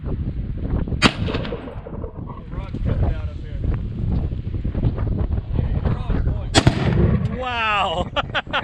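Two sharp outdoor gunshots at a target during a Texas hog hunt, about five seconds apart, loud and close, amid wind noise and talking.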